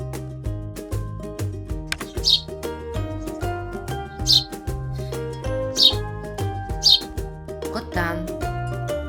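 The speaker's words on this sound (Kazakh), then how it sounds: "торғай" A sparrow gives four short, high chirps spaced a second or two apart, heard over steady background music.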